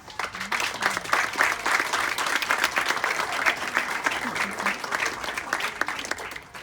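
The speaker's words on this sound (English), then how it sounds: "I want you to give them a round of applause" Applause at a Highlander High School graduation in 2021, with the audience clapping for the families who supported the graduates: a full, sustained round of clapping, close and fairly loud, with crowd voices underneath, fading at the end.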